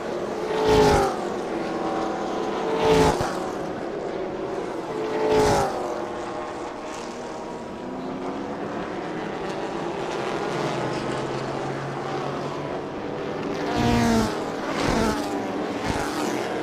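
Loud V8 engines roar past in repeated bursts at Chang International Circuit, Thailand, rising and falling as race cars sweep by, with a steady motor drone between passes.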